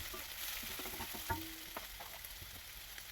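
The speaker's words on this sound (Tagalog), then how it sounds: "lagay na natin ang bacon. Isama na natin sa pag-isa sa sibuyas at bawang" Bacon sizzling in a pan with onion and garlic for pancit noodles, a faint steady frying hiss with a few soft clicks and stirring taps, heard at low volume.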